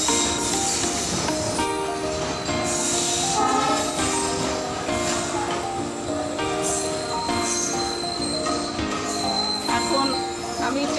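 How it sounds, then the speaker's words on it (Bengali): Trains pass through a Kolkata railway station while a boarded train sits waiting, producing a continuous loud rumble with steady droning tones and clatter that hold for the whole stretch. "তা আমাদের ট্রেনটা এখনো ছাড়েনি, অন্য ট্রেনগুলো পার হচ্ছে।"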